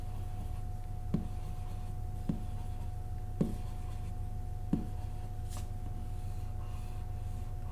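Graphs being drawn by hand, with faint scratchy strokes and light taps roughly every second over a steady electrical hum and quiet room tone. No one speaks.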